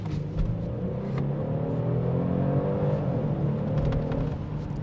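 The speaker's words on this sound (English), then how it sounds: "it sounds better, it's a little peppier, and it's always more fun in sport mode" A 2025 Genesis G70 with the 3.3-liter twin-turbo engine drives in sport mode, a steady low engine hum and road rumble heard from inside, with a slight rise in revs and no speech.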